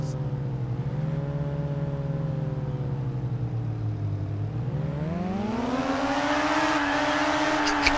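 Engine of a car drifting in a video game, a steady sustained drone whose pitch dips and then climbs as it revs higher, loud and continuous with no talk over it.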